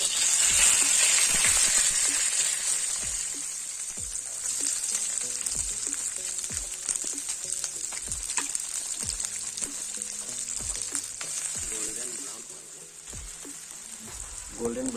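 Onions fry in hot oil with chillies, coriander and bay leaf until golden brown. A loud, continuous sizzle is broken by repeated clicks and scrapes of stirring, with a brief dip in intensity near the end.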